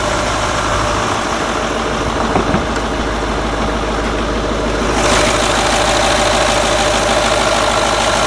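A 2008 Range Rover Vogue HSE with a 3.6 litre turbo diesel V8 idles steadily and close, a loud, even, low diesel clatter that holds throughout.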